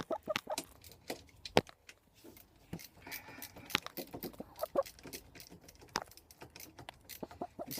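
Chickens clucking faintly in the background, scattered short calls amid light tapping, shuffling and patter, with nobody talking.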